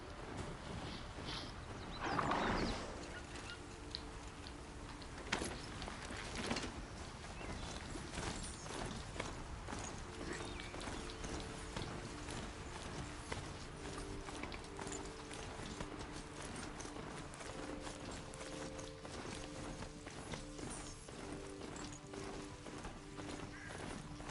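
A horse in the game Horizon Zero Dawn clip-clops along with a steady run of hoofbeats, joined by a brief whinny near the start, all set over a low, faint game ambience and music with no talking.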